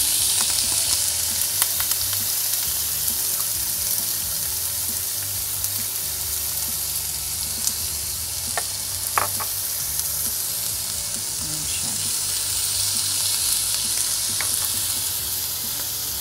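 Ground beef sizzles and fries steadily in a hot pan, a loud continuous crackle with light stirring scrapes throughout.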